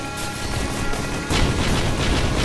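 Rapid explosive bursts from attacks in the video game Risk of Rain, a dense, continuous crackle of booms and pops that swells louder midway, with no talking.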